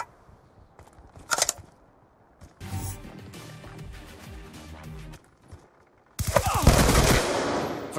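Gunfire from the video game Call of Duty Black Ops 2 comes in loud, close bursts: a brief shot, a longer rattling volley, then a final intense barrage, with quieter gaps between.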